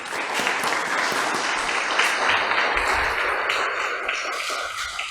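A seated audience at a book presentation gives a loud, sustained round of applause, dense even clapping from many hands that holds steady throughout without talk.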